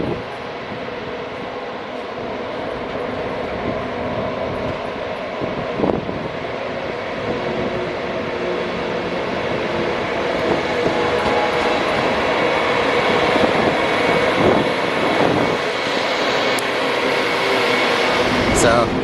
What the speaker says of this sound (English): So the Zijianhao, this type of train right here, is the most common type of express train in Taiwan